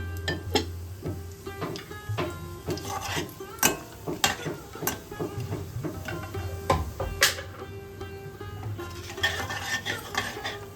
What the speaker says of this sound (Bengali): জিরে তেজপাতা শুকনো লঙ্কা ছোট এলাচ লবঙ্গ দারচিনি ফোড়নে দিয়ে দিন